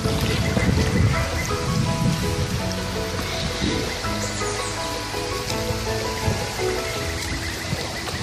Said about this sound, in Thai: ฝนเริ่มลงแล้วต้องปิดกล้องนะครับ